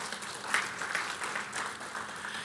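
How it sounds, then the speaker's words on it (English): Soft, distant clapping ripples through an audience at a state health policy keynote, a quiet steady patter heard from afar with no voices over it. "that's worth a round of applause"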